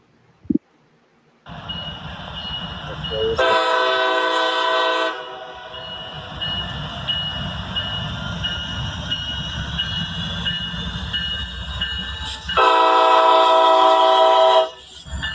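A Norfolk Southern SD70ACC locomotive's Nathan K5LA horn sounds in two loud chord blasts over steady train rumble, a short one near the start and a longer one near the end, with a quieter tonal drone between them.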